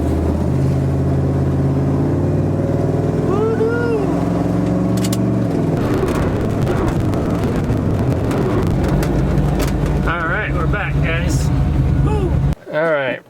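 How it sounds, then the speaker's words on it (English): A Jeep Comanche pickup with a homemade cold air intake scoop drives around the block, its engine droning steadily, then rising and falling as it accelerates, under ongoing talk and rushing wind noise. "So let's go take this for a little drive around the block"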